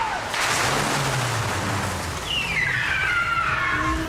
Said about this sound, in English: You got to be moving because the car's coming in really fast.